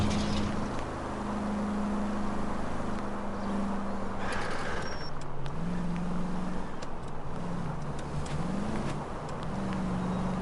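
Car driving in L.A. Noire, a video game: a continuous engine hum that rises and falls with gear changes and acceleration, steady and close throughout, with no talking.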